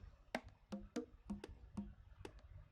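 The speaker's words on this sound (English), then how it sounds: "Also, I have this congas playing" Conga loop in a minimal house groove, a run of quick, pitched hand-drum hits with a few sharper slaps, steady and lively, quiet and alone.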